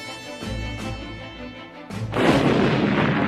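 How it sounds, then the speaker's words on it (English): Heavy naval and air bombardment ahead of the Korean War landings on Red Beach and Blue Beach, Incheon: low booming blasts early, then a loud, sustained roar of continuous explosive fire with no speech. "Heavy naval and air bombardment cleared the path ahead of them."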